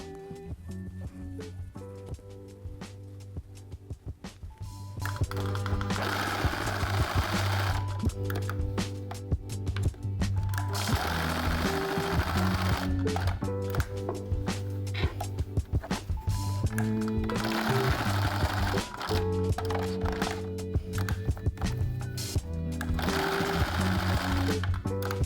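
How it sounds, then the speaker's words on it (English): A sewing machine stitches a square and cross onto a ruffled tote bag, running in a fast steady whir of needle strokes after a slower start, close up and continuous. "I'm going to sew a square and a cross on top, and that way they'll be quite strong"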